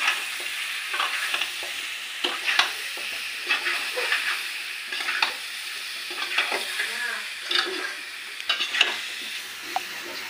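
Potatoes stirred and fried in a pan, a spatula scraping in bursts over a steady sizzle, close up with no talk.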